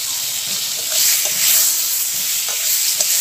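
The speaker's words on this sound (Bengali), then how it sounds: "পটলটা আর একটু ভাজা হতে থাক" Pointed gourd pieces coated in turmeric fry in a pan while being stirred, a steady bright sizzling hiss with scattered scraping clicks from the spatula, no voices.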